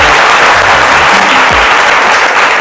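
Loud, dense audience applause for the musicians at an Ivorian event honoring Ferre Gola, a continuous wash of many hands clapping from a crowd, with faint low tones underneath.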